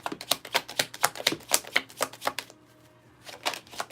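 Deck of cards being shuffled by hand at a table, a fast run of crisp riffling snaps up close, a brief pause, then a few more snaps; no one talks.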